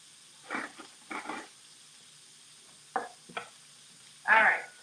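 Onion pieces dropped into a warm pan with a little oil, giving several short bursts of sizzle and stirring scrapes separated by near-quiet pauses, the last burst the loudest.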